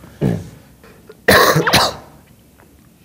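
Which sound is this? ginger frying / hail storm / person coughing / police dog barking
person coughing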